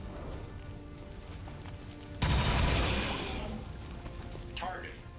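Gunfire in XCOM 2: a loud burst of shots erupts midway through the clip and then decays, set against quieter background game noise.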